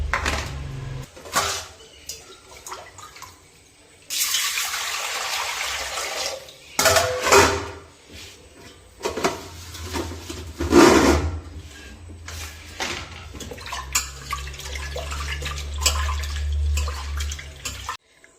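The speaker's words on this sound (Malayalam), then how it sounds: "ഇപ്പോൾ പരിപ്പ് ഞാൻ കഴുകി എടുത്തിട്ടുണ്ട്." Water splashes and sloshes in bursts as lentils are rinsed, with clattering of a pot or utensils and a steady running-water hiss toward the end.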